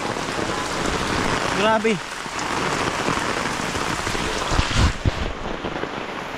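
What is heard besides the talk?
heavy rain falling on surfaces and an umbrella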